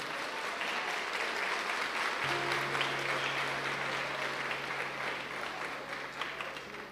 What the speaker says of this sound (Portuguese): Os homens aplaudem essas mulheres.